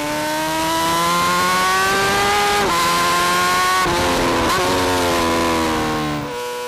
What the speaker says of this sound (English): On the home stretch, Teuchert really opens up the 1000cc motor.